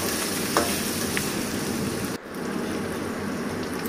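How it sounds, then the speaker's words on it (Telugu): Tomato pieces sizzle in a pan while being stirred for poha, a steady close frying hiss with a few scraping stir clicks, plus one sharp knock partway through. "ఆ తర్వాత టమాటా ముక్కలు వేసి కలపాలి"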